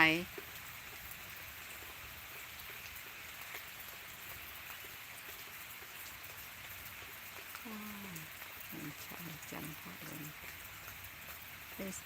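Rain falls steadily outside a house, a faint, even hiss of drops throughout, with a person speaking briefly in the background.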